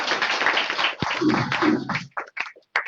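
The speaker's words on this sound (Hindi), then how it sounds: "मिस्टर ओम सोंदिया जी के लिए एक जोरदार तालियां होनी चाहिए" Applause from an audience at a team success celebration in Prayagraj, a short burst of clapping that thins into a few scattered, separate claps near the end.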